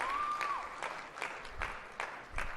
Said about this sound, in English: I'd like you to welcome them with a rousing round of applause